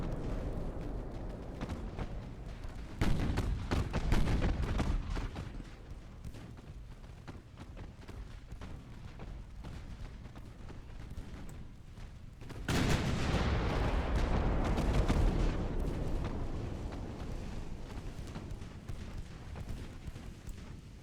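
Naval gunfire and shell impacts in Ultimate Admiral: Dreadnoughts, a 1902-era Austrian fleet battle with 5-inch shells, heard as a dense rumbling barrage with heavy bursts near 3 and 13 seconds, continuous and loud without talk.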